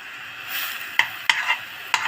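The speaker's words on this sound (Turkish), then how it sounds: "15-20 dakika soğanla kıymayı iyicene kavuracağız" Minced meat and onions sautéing in a pan for içli köfte give a soft steady sizzle, broken by a few sharp stirring scrapes and clinks against the pan, close and fairly quiet with no talking.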